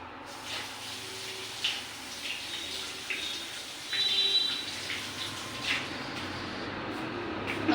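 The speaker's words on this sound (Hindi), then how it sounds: "हाथ धो लिए मैंने अपने" Running tap water splashes steadily into a sink as hands are washed, a moderate continuous rush with small shifts in the flow and no voices.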